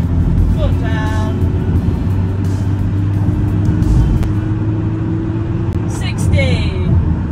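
A Volkswagen Caddy van pulls away under full throttle, its engine a steady droning rumble heard from inside the cab, with someone talking over it.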